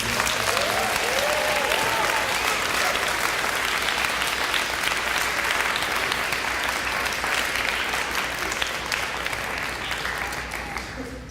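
A school audience breaks into sustained, dense applause for three teachers, steady and loud for several seconds before tapering slightly at the end.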